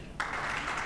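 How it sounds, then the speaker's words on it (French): A conference audience at the COP breaks into applause, a sudden burst of dense clapping rising sharply and holding steady for the rest of the brief moment. "Aujourd'hui, nous pouvons applaudir les Africains et les Africaines."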